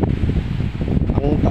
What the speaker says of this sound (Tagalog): Napaka napakalakas ang alon, napakalakas ang hangin, gawa ng habagat.